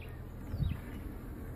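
Honey bees hum in a faint, steady buzz around an open hive during inspection, a soft continuous drone with no talking.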